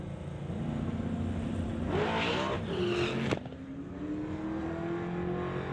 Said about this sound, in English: You'll hear the boost start to build on Black's Cherokee.